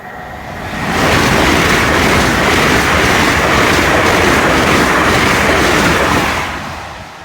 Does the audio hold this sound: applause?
no